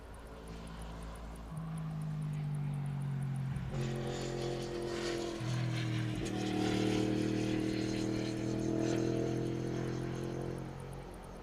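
An Airbus A380 taxiing at the Airbus factory during new aircraft testing, its engines giving a steady, fairly loud drone with shifting tonal hums that rise and change pitch over about eleven seconds, with no talk.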